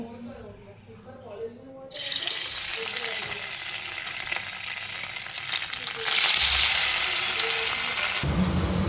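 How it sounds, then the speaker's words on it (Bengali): Paneer pieces frying in hot oil in a wok, a steady loud sizzle that starts after a quieter opening and swells louder near the end, with faint talk at the start. "তো এখন পনিরটা ফ্রাই হয়ে এসছে,"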